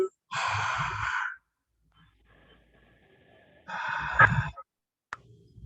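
Two long, breathy mouth exhalations during a guided yoga flow, the first near the start and the second about three seconds later, each audible with no speech over it and a short quiet stretch between.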